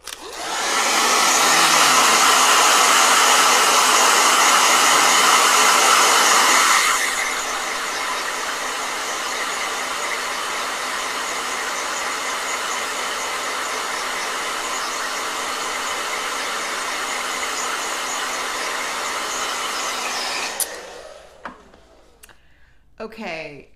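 A handheld blow dryer roars loudly at high setting for several seconds, then drops to a lower steady whir that runs on until it shuts off near the end, leaving a few faint clicks and handling sounds.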